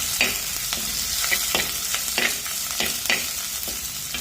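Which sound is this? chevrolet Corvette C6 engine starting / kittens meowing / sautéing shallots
sautéing shallots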